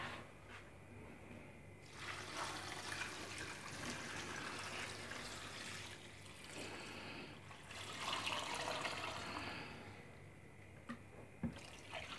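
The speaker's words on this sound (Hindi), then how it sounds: "अब इसमें हम डालते हैं पानी।" Water splashes and trickles steadily into a cooking pot for boiling spinach with mutton, with a brief lull partway before the pouring picks up again, close by and moderately loud.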